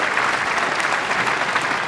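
A Barnsley crowd at a Weber Cup bowling match applauding loudly, a dense, sustained burst of clapping throughout.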